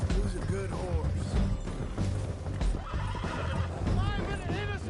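A horse in the video game Red Dead Redemption II neighs and whinnies several times with clip-clopping hooves, loud and close, amid shouting voices and crashes.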